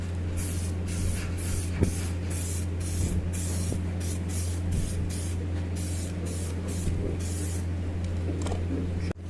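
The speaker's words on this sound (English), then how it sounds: "So first we'll just go over with some primer." Primer is sprayed onto alloy wheels from a Land Rover Discovery 2 Td5, a steady close hiss broken into repeated short bursts over a constant low hum.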